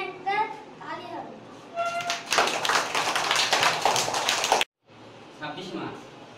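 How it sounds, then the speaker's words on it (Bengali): Children in a classroom break into a burst of brisk clapping that lasts about two seconds after someone speaks. It stops abruptly, and then speech resumes. "সারের জন্য একটা তালি হবে।"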